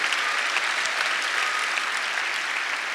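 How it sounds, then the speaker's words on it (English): A congregation applauds at a large worship gathering, a dense, steady wash of clapping from many hands that holds at an even, loud level for a few seconds, with no voices standing out. "I think we should just pause and applaud our God"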